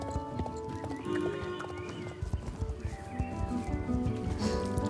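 Horse hooves clip-clop steadily in Star Stable Online, with a horse neighing amid game music and ambience, moderately loud and continuous.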